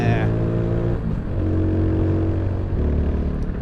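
A 2021 Mutt Mongrel motorcycle engine revs as the throttle opens in top gear at about 45 mph, producing a loud, steady, close droning roar with a slight rise in pitch early on.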